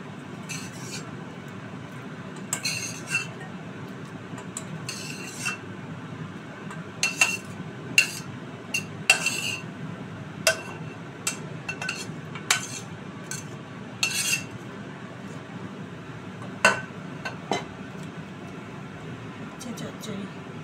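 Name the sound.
spoon and pot clinking while serving bitter gourd curry into a bowl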